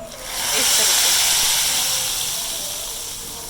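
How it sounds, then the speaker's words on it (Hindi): Loud, steady sizzling hiss of tempering spices hitting hot oil for a masoor dal dish, surging quickly then slowly fading over a few seconds. "तड़का लगा देंगे अब इस तरीके से"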